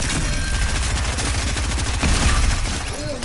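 A charge shotgun firing in a squad shooter game: a loud run of rapid, punchy blasts packed into a few seconds over busy, noisy game sound.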